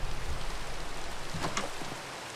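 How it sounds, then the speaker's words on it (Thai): Rain falling in the Minecraft video game, a steady soft hiss of drops that holds at an even level throughout with no voices. "ฝนตก"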